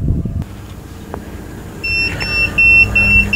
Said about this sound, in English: there's the alarm. It's showing 150 degrees, so I'm gonna silence that alarm